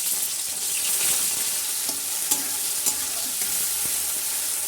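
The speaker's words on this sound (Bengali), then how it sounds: "এরকম আমার মা বটবড়িগুলোকে সব ভাজা স্টার্ট করে দিচ্ছে।" Bori, small lentil dumplings, frying in hot mustard oil in a home kitchen: a steady bright sizzle with a few scraping stirs of a spatula, close and continuous, no voices.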